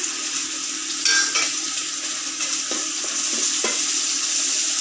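Chopped onion, ginger and garlic fry in hot oil in a pan, a constant bright sizzle with a few scraping strokes of a spatula stirring partway through; no one speaks.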